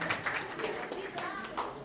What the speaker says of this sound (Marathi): या त्या ताईसाठी जोरदार टाळ्या